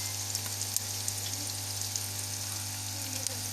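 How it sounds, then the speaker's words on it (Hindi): Green chilies frying in hot oil with softened onions for fish salan, a steady close sizzle with soft crackle throughout, no voices. "अब हम इसमें हरी मिर्चें डाल देंगे"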